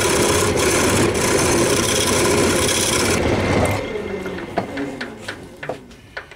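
Woodturning tool cutting an ash bowl on a lathe: a loud continuous rasping scrape for about three seconds, then the cutting stops and the spinning lathe winds down under scattered light taps and knocks.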